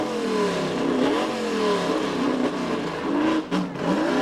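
A loud race car engine roars and revs off the start at Pikes Peak, pitch climbing through gear changes as it accelerates hard, up close and continuous with no voices.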